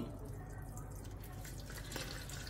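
Water pours onto about two and a half cups of washed mung and masoor lentils with some vegetables in a cooking pot, making a steady running, splashing sound close by.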